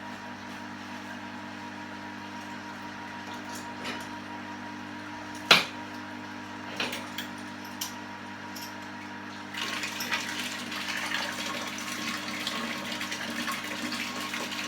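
Sparge water for a pumpkin beer brew pouring in a soft, steady stream at moderate distance, with a couple of sharp clinks early on and the flow growing fuller and louder near the end.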